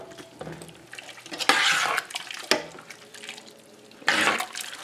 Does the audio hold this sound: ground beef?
yes